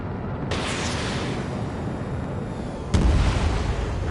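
An anti-air vehicle explodes in the video game Ace Combat 7, two loud blasts about two and a half seconds apart, each followed by a sustained rumbling roar, no talk.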